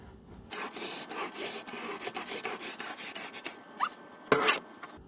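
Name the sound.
sponge mop rubbing paint on RV ceiling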